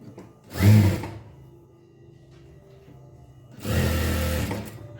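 A sewing machine stitches a folded blouse patti fabric in two short, close bursts of rapid whirring, with quiet handling sounds between them.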